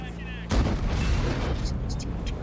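Tank cannon fire in World of Tanks: a heavy boom at about half a second rolls into a sustained rumble of battle noise, loud and close.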